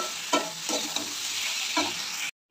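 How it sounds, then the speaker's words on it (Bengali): A ground spice paste of cumin, coriander, ginger and chili sizzles steadily in a hot pan. A spatula stirs it in a few scraping strokes over the constant frying hiss, close up, and the sound cuts off abruptly at the end. "তো এবার একটু আবার নাড়াচাড়া করে কষিয়ে নেব।"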